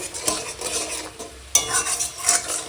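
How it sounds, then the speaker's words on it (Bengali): Sugar crackles and sizzles in a hot pan, with a spoon stirring and scraping against the metal in bursts. Close and fairly loud, no voices. "এখনো কিটকিট করছে চিনিটা"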